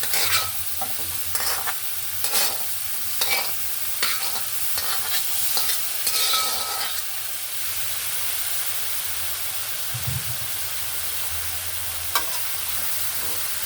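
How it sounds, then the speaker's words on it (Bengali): Cut taro is stirred and fried in a pan with spices, with repeated close scraping strokes over a steady loud sizzle that carries on after the stirring stops. "এখানে দিয়ে দিচ্ছি কচু এগুলো আমি কেটে রেখেছিলাম ধুয়ে রেখেছি"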